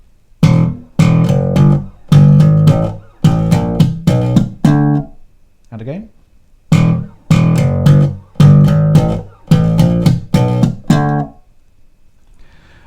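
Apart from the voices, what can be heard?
slap bass riff bars 1 and 2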